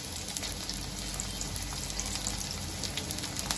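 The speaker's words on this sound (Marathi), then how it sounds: "आता ह्यात मी मिरची घालून घेते।" Green chillies tossed into onions frying in butter, a steady, close sizzle and crackle of hot fat that holds evenly throughout with faint stirring.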